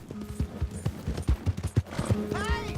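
Horse hooves clip-clopping at a steady walking rhythm in Red Dead Redemption 2, close and distinct, with a soft snort or whinny near the end.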